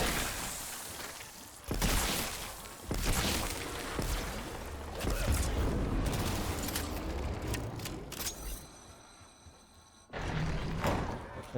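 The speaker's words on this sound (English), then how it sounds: "I'm just gonna use the ray gun on this." Ray gun firing in Black Ops 7 Zombies, Ashes of the Damned map, with several sharp energy blasts and crashing impacts spread across the stretch, separated by quieter gaps, then a loud burst near the end.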